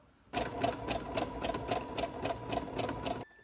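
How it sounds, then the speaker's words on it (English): A sewing machine stitches fabric for a homemade raccoon costume, its needle hammering in a fast, even rhythm that starts abruptly and stops after about three seconds, close and clear. "my mom showed me how to do it on the sewing machine"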